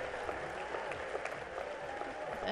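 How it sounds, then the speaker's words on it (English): Crowd at a gymnastics World Cup high bar final cheers and applauds after a landing, a steady wash of clapping and voices held at an even, fairly distant level. "just listen to the cheers from the crowd"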